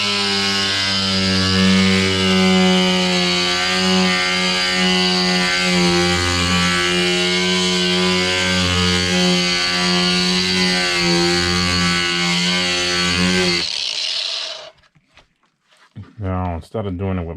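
A grinder cutting metal for an RC car wing mount on an Arrma Kraton 8S EXB, a loud continuous whining drone with shifting pitch that cuts off abruptly, followed by brief clattering.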